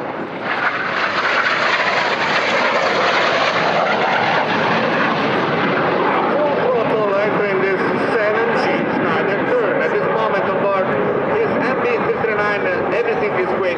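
A Frecce Tricolori solo jet flies a high-load-factor airshow maneuver, and its engine gives a loud, sustained roar with a shifting pitch while an announcer talks over it.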